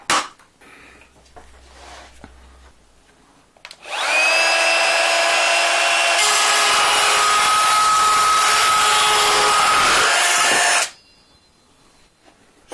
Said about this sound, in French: Donc on va commencer par la planche de contreplaqué de 5 mm.